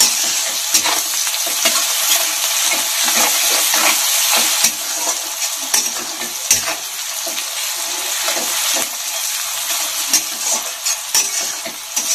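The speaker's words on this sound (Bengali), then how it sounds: "আর পেঁয়াজ কুচি দিয়ে এটাকে একটু হালকা ভেজে নিব।" Cauliflower and egg fry in hot oil with chopped onion and cumin seeds, giving a loud, constant sizzle broken by repeated scraping and stirring of the spatula.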